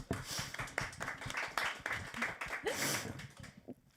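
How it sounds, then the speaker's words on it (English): Scattered clapping from an audience greets a speaker at a women's panel event in Davos: uneven, fairly close claps that keep going for a few seconds before trailing off into quiet. "Please, applause."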